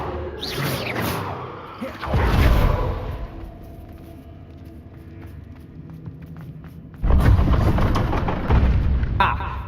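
Booming blasts of the Bombarda explosion spell in the video game Hogwarts Legacy, two heavy bursts several seconds apart with rumbling decay, amid combat effects and voices.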